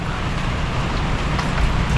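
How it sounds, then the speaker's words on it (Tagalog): Rain coming down outdoors, a steady, dense broadband hiss with no gaps, loud and close throughout with a low rumble underneath. "ngayon lang lumakas kunti yung ulan"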